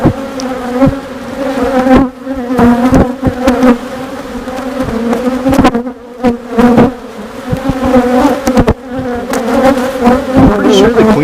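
Honeybees swarm and buzz around an opened backyard hive during an inspection after harvest: a loud, steady, close drone with fluctuating pitch that continues for the whole stretch without pause.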